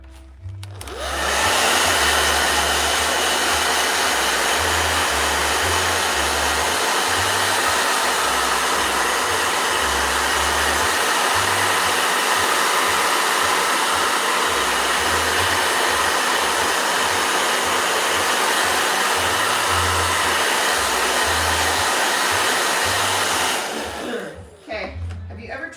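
A blow dryer roars loud and steady at close range for over twenty seconds, switched on abruptly and cut off near the end, with a faint voice before and after.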